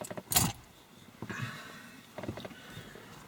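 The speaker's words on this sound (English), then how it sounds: "let's put that in the ignition." A freshly cut key goes into the ignition of a UK-spec Jeep Grand Cherokee WK 3.0 CRD, with a close metallic jangle and scrape followed by softer rattles and clicks.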